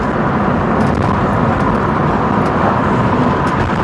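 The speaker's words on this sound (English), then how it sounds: "here I am, driving at 50 miles per hour without the thing weaving around all over the place" Land Rover cruising at 50 mph on a straight road, a loud constant low engine and road drone with wind and tyre roar throughout, steady and unbroken, no voices.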